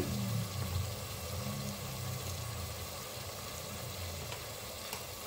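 Ginger garlic paste sizzling in a pan with browned onion: a steady, dense frying hiss with a low background rumble, continuous and fairly loud throughout.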